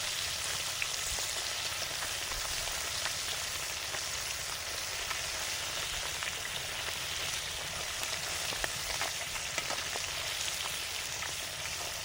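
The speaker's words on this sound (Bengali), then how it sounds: "মাছগুলো ভাজা হয়ে গেছে, নিয়ে নিচ্ছি" Home-caught fish sizzle steadily in hot oil in a pan, a dense continuous crackle with scattered sharper pops, close and even throughout, with no talking.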